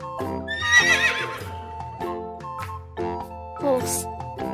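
A horse neighs loudly and up close, a shrill whinny that quivers and falls away, followed by softer snorts and a second rising call.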